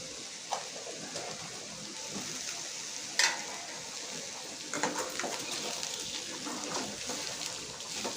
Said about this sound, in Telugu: దీనికి మూత పెట్టి లో ఫ్లేమ్లో పెట్టుకొని బాగా మెత్తగా అయ్యేంత వరకు మనము ఉడికించుకోవాలి ఫ్రై చేసుకోవాలి